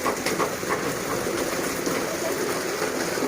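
Steady rain pours in Sambalpur, a dense, even hiss of drops hitting surfaces at close range with no voices.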